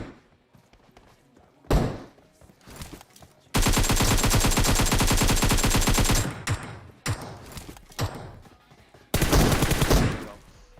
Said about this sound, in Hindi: और यार सामने गोलियां भी चल रही थी